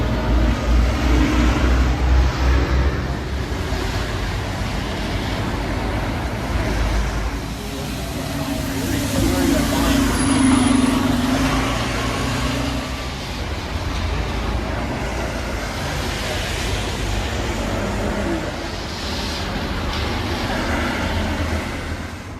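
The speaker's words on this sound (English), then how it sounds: "This is A1 bus. It goes to Bristol bus station," An A1 bus in Bristol city centre traffic, a continuous loud rumble of the bus engine and road noise with passing vehicles, swelling and easing over about twenty seconds.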